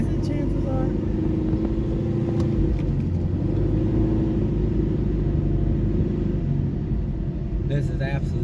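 A ProCharged Camaro SS engine drones with a loud, steady low rumble from inside the car while accelerating, and a voice talks over it now and then.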